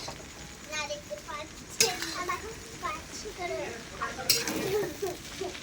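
Egg chicken chow mein being stirred and fried in a pan, with scraping and sizzling that comes in bursts, plus a couple of sharper clanks, all under steady talking and a voice.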